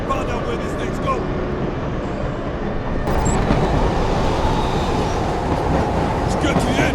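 Moving train in the video game Killzone 2: a continuous heavy rumble of rolling carriages, growing louder and denser about halfway through, with faint clatter on top and no pause.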